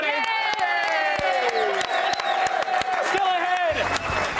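A crowd claps and cheers with scattered whoops, sustained and fairly loud throughout, with voices shouting over the noise.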